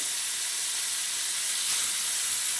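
Chicken changezi pieces frying in hot oil over a medium flame, a steady, dense sizzle and hiss that stays even throughout without any talking.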